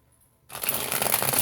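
Tarot cards being shuffled close up, a dense riffling rush starting after a brief quiet moment and continuing steadily.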